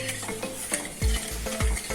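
Milk with sugar boils in a pot on a gas stove while a spoon stirs it, giving a close bubbling simmer with a few low thumps from the spoon and no voices.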